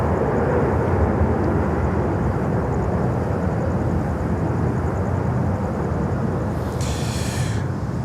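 A Martinair cargo plane flying at Miami airport, giving a continuous broad engine roar that holds steady throughout, distant and unaccompanied by speech.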